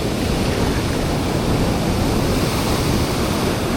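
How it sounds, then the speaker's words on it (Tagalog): A big ocean wave breaks and surges, a loud dense roar of surf sustained evenly throughout, with no voices. "Yan pa, isang malaking alon."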